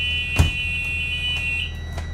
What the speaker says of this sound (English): Buzzer works and the window does open and close properly